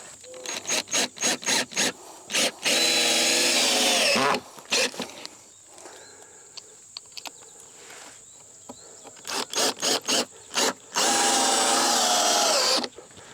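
Power drill driving screws into the wooden joints of a compost box: short rapid bursts, then longer sustained whirs, repeated in two clusters with quiet pauses between.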